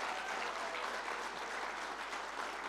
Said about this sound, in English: I think they deserve a great round of applause, our faculty